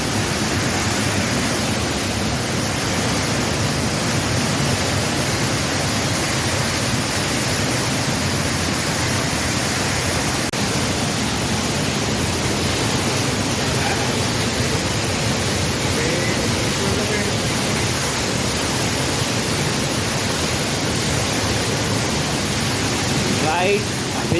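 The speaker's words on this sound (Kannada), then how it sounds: "Right below Niagara Falls." Niagara Falls thundering from right below, a dense, loud, unbroken roar of falling water filling the whole stretch with no pauses.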